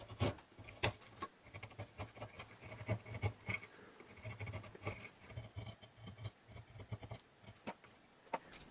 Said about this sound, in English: That took a bit of whittling, but now it fits on here like this.